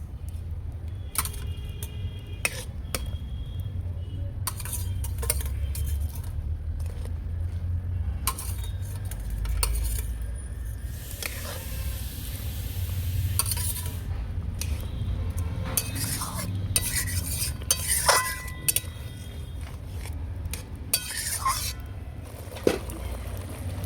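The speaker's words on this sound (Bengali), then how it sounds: "এবার একে একে মাছগুলো দিয়ে দেবো" Small chanda sea fish pieces go into a hot pan one by one, giving soft clinks and brief sizzling bursts over a steady low cooking rumble, with scattered utensil taps throughout.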